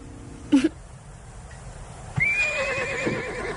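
A horse gives a short snort, then a long loud neigh that rises and wavers, with faint hoof clops in between.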